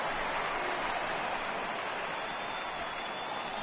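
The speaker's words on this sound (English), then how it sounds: "The rain coming down as it is, we are in for a long delay." Steady, even hiss of rain pouring down on the ballpark in MLB The Show 18, a dense, continuous wash that stays constant throughout with no voices over it.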